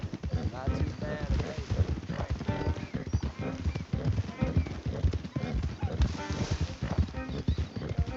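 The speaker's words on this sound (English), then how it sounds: "Don't want the horses clopping around outside the window." Horse hooves clopping in Red Dead Redemption 2 during a cattle-rustling mission, a steady rhythmic clatter from several horses, close and loud, under ongoing talk from characters.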